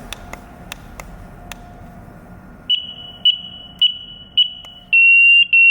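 A winter camping safety alarm gives four short, loud, high electronic beeps in a steady rhythm, then one long continuous tone. Faint clicks are heard before the beeps start.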